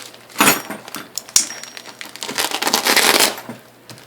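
A one-kilogram plastic parcel from China holding ratcheting wrenches is torn open, giving bursts of loud, close crinkling and crackling plastic with a few sharp rips, alone without talk.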